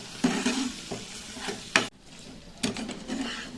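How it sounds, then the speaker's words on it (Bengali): Raw tomato charchari is stirred in a hot pan right after sugar goes in. A utensil scrapes and rakes through the mixture in a few short, close strokes over a low sizzle, with a brief pause midway. "চিনিটা দিয়ে আবার একটু নাড়িয়ে নিলাম।"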